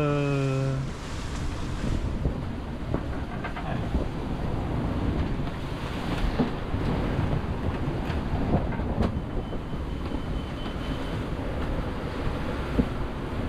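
A big wave strikes a sailing boat at sea in the rain, giving a steady, loud rushing wash of water against the hull with sharp splashing bursts, after a brief tonal hum at the start.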